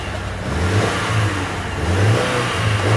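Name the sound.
2014 Subaru Forester XT engine revving against rev limiter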